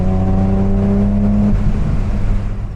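A supercharged BMW Z4M engine pulls hard under acceleration, a loud steady drone with clear harmonics that shifts and roughens near the end, heard up close with no talking.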